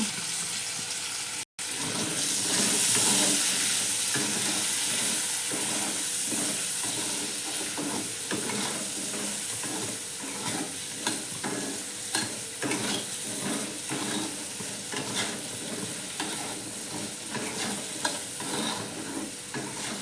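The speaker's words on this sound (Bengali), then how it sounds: "এই আলুগুলোকে একটু নুন হলুদ দিয়ে ভালো করে ভেজে নেব" Small potato pieces fry in oil with salt and turmeric in a wok, a loud continuous sizzle and hiss with frequent scraping stirs and spatters, close up and without speech.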